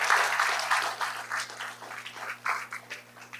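Scattered hand clapping from the audience at a school district board meeting, moderate and uneven with individual claps audible over a faint steady hum.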